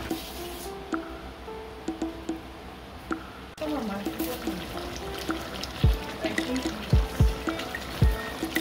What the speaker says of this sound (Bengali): এখন দিয়ে দিচ্ছি 1 কাপ দুধ